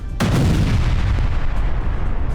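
Heavy explosions from bombardment of Hmeimim airbase in Syria: a sudden loud blast followed by a long, roaring low rumble and crackling reverberation, with a second fainter thump later.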